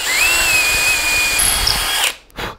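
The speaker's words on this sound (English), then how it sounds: "I like to drill a little bit, pull out a little bit so you can evacuate some of the wood chips." A power drill bores a hole through the wooden headstock of an acoustic guitar under construction, a steady high whine that cuts off abruptly before a brief final burst.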